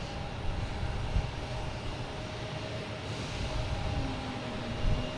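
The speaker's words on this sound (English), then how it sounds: "Got a Cape Air taking off here." A Cape Air twin-engine commuter plane takes off at Boston Logan Airport, its engines giving a steady mid-distance roar with a faint rising whine, no talking.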